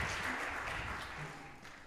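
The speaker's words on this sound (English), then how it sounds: "One more round of applause for our helpers." A short burst of audience applause at a middle school percussion concert, dense and steady clapping from a room full of people, fading slightly toward the end.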